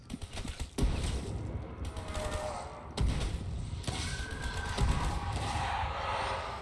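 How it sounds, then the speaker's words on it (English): Gunfire in Black Ops 3 zombies mode: sharp, heavy shots land in spaced bursts with dull thuds between them, loud and close against a busy game background. "the gunfire was super loud"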